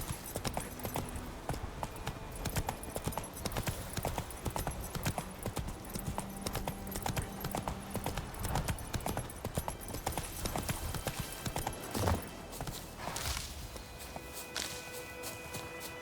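Hooves of Roach, the horse in The Witcher 3, clip-clop steadily and close by under a constant outdoor game ambience, with a brief heavier thud near the end.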